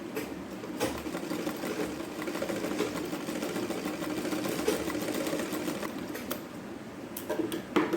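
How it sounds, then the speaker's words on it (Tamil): A sewing machine top-stitches along the edge of a child's umbrella frock top, a close, continuous rapid mechanical chatter running steadily throughout with a few brief ticks near the end. "இந்த ஓரமாக டாப் ஸ்டிச் போட்டணும்."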